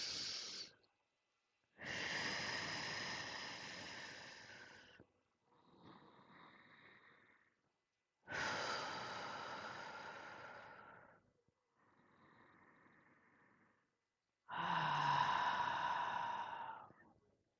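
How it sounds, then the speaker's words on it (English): Three slow, deep breaths taken during a guided meditation. Each long, airy inhale is followed by a softer exhale, and the breaths sound close and quiet, with silence between them. "we'll begin with 3 deep breaths"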